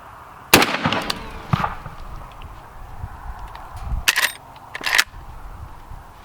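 A Marlin 1895 Guide Gun rifle fires cast lead rounds outdoors: four sharp, loud bangs, irregularly spaced, each followed by a short rolling echo.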